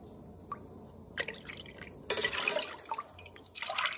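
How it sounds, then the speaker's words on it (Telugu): Water being poured over soaked lentils for drumstick leaves dal, heard as dripping and splashing bursts that start and stop several times, fairly close, with no talk over it. "3 కప్స్ వాటర్ పోసుకోవాలి."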